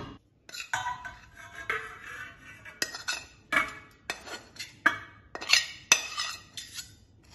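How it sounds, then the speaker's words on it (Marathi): Metal utensils clink and scrape against a pot in a series of irregular knocks and clatters, close by, as cooked khichu is scooped into another pot. "आता आपण याला थंड होण्यासाठी दुसऱ्या भांड्यामध्ये काढून घेऊ।"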